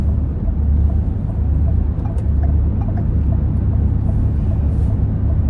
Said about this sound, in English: This car is dying.